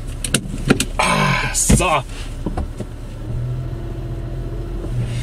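A car pulls away slowly and then drives in reverse, with a steady low engine hum and a few clicks and thumps from the cabin, under brief talk from people inside.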